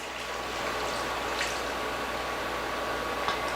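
Beef broth goes into a hot pan of garlic left from searing steak, giving a soft, steady sizzle and bubbling hiss that stays quiet and even throughout, with no talking.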